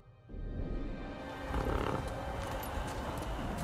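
Steady hoofbeats of a galloping horse in the video game Ghost of Tsushima, with a rumbling, rushing background, continuous and fairly loud throughout.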